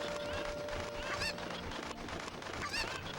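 Chicken-like squawks and honking calls burst out twice among a dense flock of fowl in The Legend of Zelda: Ocarina of Time, loud and steady over a busy game soundscape with no talk.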